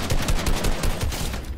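Rapid gunfire in Fortnite, a dense burst of repeated shots at a steady fast rhythm, loud and close with no talking over it.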